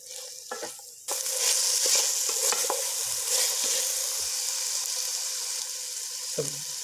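A spoon stirring vegetables into chicken frying in a pan, with a steady sizzle that jumps louder after a brief pause and continues alongside scraping strokes and light clinks, close up and without speech.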